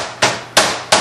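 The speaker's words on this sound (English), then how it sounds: "we want to pound this out until it's about 1/4 of an inch thick. So we're going to use our little mini Thor hammer." A small novelty Thor-style mini hammer pounds raw chicken breast flat for cordon bleu, three sharp, loud thuds spaced roughly a third of a second apart, each with a quick decay and no talk over them.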